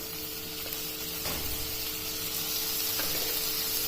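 Tomatoes dropped into roasting masala in a pan, setting off a steady close sizzle and hiss with a couple of soft stirring clatters.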